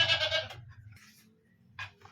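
Pet goats fed washed saba banana peels let out two short, fairly close bleats, one at the start and another after a quiet gap.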